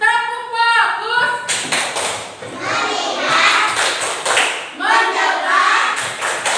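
Children in a classroom clap out the 'tepuk bagus' routine, a run of quick claps with chanted voices, following a teacher's spoken lead amid ongoing talk.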